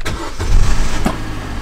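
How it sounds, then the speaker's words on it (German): Opel Combo starting after its battery was replaced: a brief starter crank followed by the engine catching and settling into a steady idle, close and loud, with no talking. "Testet auf jeden Fall, ob der Wagen anspringt."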